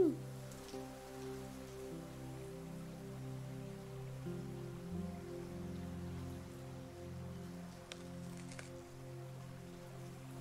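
Magical rain falls over farm fields in the video game Deiland, a soft, steady patter spread under continuous melodic game music, with no voices.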